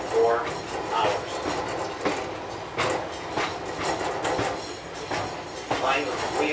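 Passenger train cars rumble and clatter along the Pittsfield & North Adams railroad line, with rhythmic clickety-clack of wheels on rail joints heard from inside a car, while people talk.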